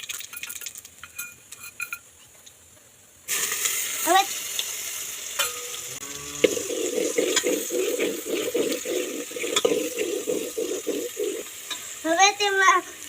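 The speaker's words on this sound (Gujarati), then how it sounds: "તેમાં જીરું અને હિંગ નાખી દઈએ અને લસણ નાખી દઈએ." Cumin, asafoetida and garlic dropped into hot oil in a pan while cooking a tomato and sev curry, a steady crackling sizzle starting abruptly and continuing with occasional stirring clinks and background noise.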